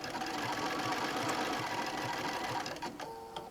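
A sewing machine running a blanket stitch for applique along the edge of a puppy quilt, a steady close mechanical whir with rapid regular ticking that winds down at the end.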